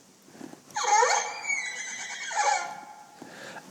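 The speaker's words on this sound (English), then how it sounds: "It even does a horse whinny." A synthesized horse whinny from an iPad horse fiddle instrument: one loud, rising-then-falling neigh with a second quivering swell, heard alone without talk.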